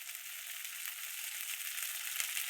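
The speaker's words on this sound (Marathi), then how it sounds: "हळद चांगलं भाजू द्या बघा." Turmeric and roasted masala fry in hot oil with a steady, close sizzle that holds at an even level throughout, with no voices.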